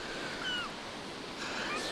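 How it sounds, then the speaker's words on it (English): Ocean waves roll gently onto a beach in a steady soft wash of surf, with faint bird calls above it and no talk. "You got the beach and you got the ocean, and it's gently rolling in"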